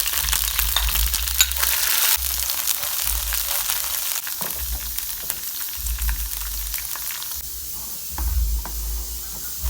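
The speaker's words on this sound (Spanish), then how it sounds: "los chiles que vamos a dorar en este preciso momento" Dried chile de árbol chiles and a garlic clove fry in hot oil over a high flame, a loud, close crackling sizzle with bursts and stirring scrapes that fades slightly near the end, no voices.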